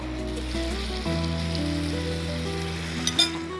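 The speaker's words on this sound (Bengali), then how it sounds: "এখন আমি চিকেনটা এই যে ভাজতে দিলাম, এটা ভাজতে কিছুটা সময় লাগবে।" Chicken fries in a pan with a soft, steady sizzle close by, a low hum underneath and a couple of small clatters near the end.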